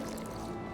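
A short splash of water poured into an alchemy flask in the video game Witcher 2, a brief close liquid squish and drip heard alone.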